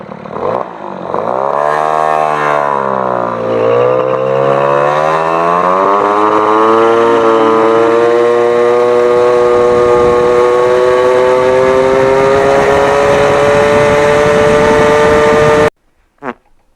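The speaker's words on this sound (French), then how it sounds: "Bon, on va essayer le premier démarrage." A moped with a freshly rebuilt MBK AV10 engine, an MBK 51, fires up on its first start and revs loudly up close. The steady buzzing pitch dips and climbs for about fifteen seconds, then cuts off abruptly.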